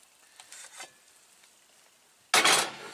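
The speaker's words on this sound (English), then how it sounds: "Just saute these mushrooms down." Mushrooms sautéing in a pan on a stove inside a van, a faint sizzle with light stirring scrapes that swells into a sudden loud burst of sizzling near the end.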